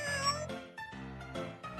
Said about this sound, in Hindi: वो दर्द से म्याऊं म्याऊं करती रही।